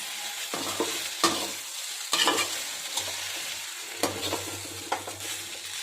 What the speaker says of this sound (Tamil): சேர்த்துட்டு நல்லா ஒரு முறை கலக்கி கொடுங்க